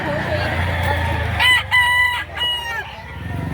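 A rooster crows twice in quick succession, loud and near, at a chicken market in Lipa, Batangas, following a stretch of people talking and background market noise.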